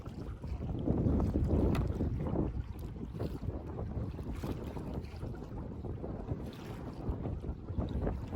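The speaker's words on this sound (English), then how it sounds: "we were paddling straight into the wind coming from the east" A canoe is paddled straight into a strong east wind on a forest lake, the gusts buffeting the microphone in a loud, continuous roar that buries any paddle strokes.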